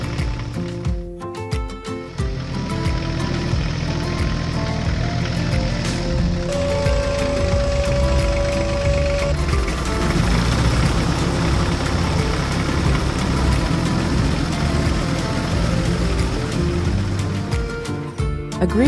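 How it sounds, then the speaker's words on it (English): A tractor engine runs steadily while a straw baler works on a farm, a constant low rumble with mechanical clatter and a brief tonal hum partway through, loud and close throughout. "Its powerful engine purred at full power, and the straw baler began to work with the precision of a Swiss watch."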